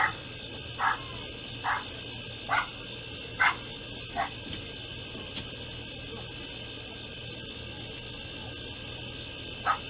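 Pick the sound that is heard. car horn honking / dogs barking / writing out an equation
dogs barking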